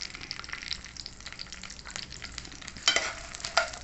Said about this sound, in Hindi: अब इसके अंदर ये फुल मखाने डाल के इनको अच्छे तरीके से फ्राई कर लेते हैं।